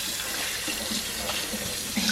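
Tap water runs in a steady splashing stream while a baby monkey with thick hair is rinsed at bath time, with small shifts in the splash as the water hits fur and basin.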